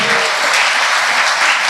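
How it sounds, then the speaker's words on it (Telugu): A congregation claps in praise during a Sunday church worship service, a dense, continuous burst of applause filling the room throughout. "చప్పట్లు పడి వేసే స్తోత్రం చెబుదా"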